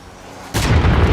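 A single heavy missile blast in Call of Duty Warzone bursts in suddenly after a quiet lead-in, a loud, deep boom with a rumbling roar that carries on to the end.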